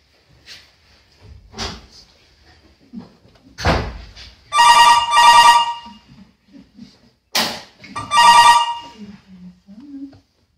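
Telephone ringing in two loud, close bursts of bright electronic trills separated by a pause, with scattered clicks and knocks and brief sounds around them.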